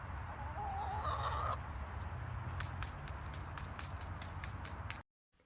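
A chicken clucks repeatedly in short, sharp bursts, fairly close, over a steady background hum before the sound cuts off abruptly.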